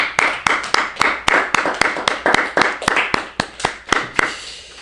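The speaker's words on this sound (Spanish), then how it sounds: "Denme un aplauso a mi Señor." Church congregation clapping in unison, sharp rhythmic claps at a steady beat of roughly three per second, loud and close, with no voices over them.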